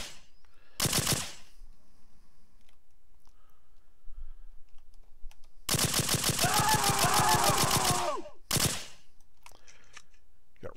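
Rapid automatic gunfire from a rifle in an Unreal Engine 4 heist game, fired in three sharp bursts: a short one near the start, a long sustained volley in the middle, and a brief final burst, each loud and crisp against near silence.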